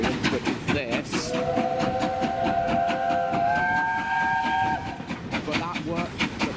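Bluebell Railway heritage steam train running, with a sustained two-tone whistle held for several seconds over rhythmic rail clatter, voices murmuring nearby.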